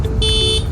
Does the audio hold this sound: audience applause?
no